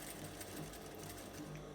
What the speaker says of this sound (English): I'm just going to go ahead and stitch it